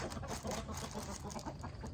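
Chickens cluck and murmur continuously in a busy, close flock, with overlapping soft calls and some rustling throughout.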